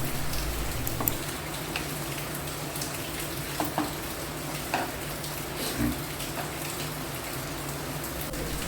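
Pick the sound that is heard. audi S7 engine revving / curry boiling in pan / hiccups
curry boiling in pan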